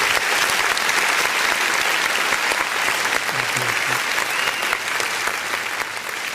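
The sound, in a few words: congregation applauding in church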